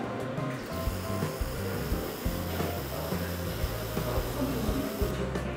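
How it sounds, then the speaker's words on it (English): White contrast paint sprays from an aerosol can onto a gauge and welded steel during magnetic particle inspection, giving a steady close hiss that runs for several seconds over low background hum. "Firstly, we spray the white contrast paint."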